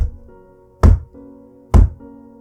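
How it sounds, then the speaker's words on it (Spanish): Heavy knocks on a door, two loud, sharp thuds spaced about a second apart over a faint, low, droning background. "en la puerta de enfrente se escucharon 3 golpes."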